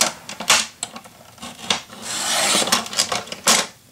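Memory box kit material being cut by hand: close, rasping scrapes and rubs in short bursts, with one longer continuous stroke in the middle, no voices.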